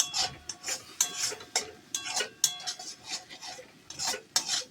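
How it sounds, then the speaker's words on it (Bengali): Spice paste being stirred and fried with a little water in a pan for a drumstick curry, heard as repeated close scraping and clinking strokes of a utensil against the metal in an uneven rhythm, with no voices. "তাই আমি সামান্য পরিমাণে একটু জল দিয়ে দেখুন মশলাটা কষিয়ে নিচ্ছি"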